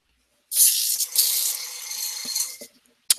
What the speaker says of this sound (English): So now the gray primer, and we're going to do what we always do, which is spray this at an angle